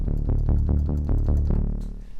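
A Korg Prologue synthesizer plays a custom plucky sci-fi patch as a bass line, with a steady run of punchy, decaying low notes in a repeating rhythm that rings out at the end, with no voices.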